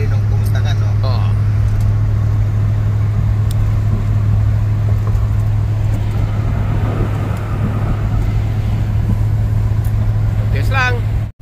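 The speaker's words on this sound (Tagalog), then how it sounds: "Continuous traffic area guys." Continuous road traffic passing in Sacramento, California around five in the afternoon: a loud, steady engine drone and rumble with a strong low hum, and muffled voices underneath.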